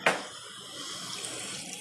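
Tamarind water pours into a cooking pot of sambar rice with a brief splash followed by a soft, steady trickle, faint and close, with no voices.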